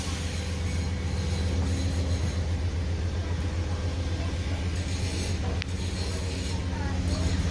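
An Amtrak train rolls past at Fullerton station, a loud continuous rumble of wheels and engine with faint rail squeal, steady throughout and fairly close.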